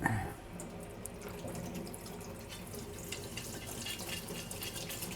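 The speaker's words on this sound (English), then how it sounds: "I gotta rinse my plate" Water runs from a tap to rinse a plate, making a quiet, steady splashing stream with light dish clatter behind it and no talk.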